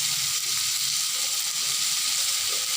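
Chopped onion and three green chilies fry in a pan for a fish and pointed gourd dolma filling, giving a steady, even sizzle that runs unbroken throughout with no one talking.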